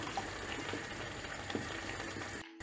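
Water pours steadily into a pot of chickpea curry for a couple of seconds, a soft continuous splashing, close by, before a brief cutoff near the end.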